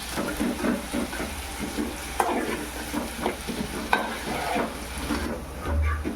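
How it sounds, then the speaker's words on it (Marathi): Finely chopped onions frying and being stirred in a pan until reddish, a continuous close sizzle broken by regular scraping strokes and a couple of sharp knocks, no voices. "हे मस्त आता लालसर शिजून द्यायचं आहे आपण कांद्याला"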